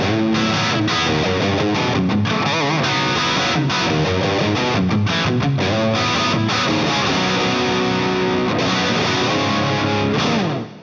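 Electric guitar licks played without a distortion pedal on a Rocktron rig, a run of bright picked notes and short melodic phrases at steady loudness, ending abruptly near the close.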